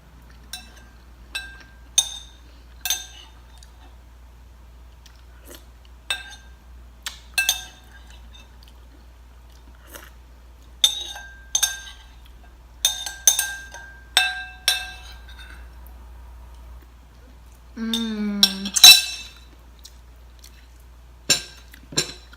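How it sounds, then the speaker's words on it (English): A spoon clinks loudly against a bowl while someone eats squash soup, bright glassy taps scattered irregularly over the stretch, some in quick clusters, close and clear against a quiet background with a brief squeaky scrape near the end. "The spoon's like really loud in the bowl."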